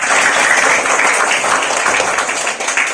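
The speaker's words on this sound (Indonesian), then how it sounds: "Oke, tepuk tangan semuanya." Audience applause from a school assembly crowd, a steady dense wash of many hands clapping at fairly even loudness throughout, with no talk over it.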